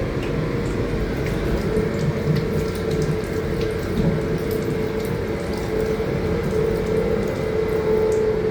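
A weak water tap runs in the toilet of a West Midlands Railway Class 196 train, a steady close splashing hiss over the low rumble of the moving train.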